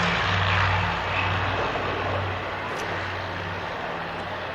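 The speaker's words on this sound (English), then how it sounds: "This is the Berlin Airlift Historical Foundation, the C-54" A Douglas C-54 propeller aircraft at the Woodford Airshow drones steadily with a low, throbbing engine hum, loud and continuous, fading slightly as it passes with no voices over it.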